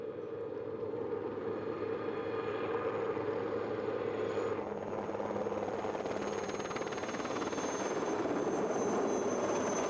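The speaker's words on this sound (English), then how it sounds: "A helicopter arrives from Zermatt." A rescue helicopter flies in from Zermatt to the Matterhorn's Hörnli Ridge, its steady rotor thrum and turbine whine growing louder and closer over ten seconds with no voices.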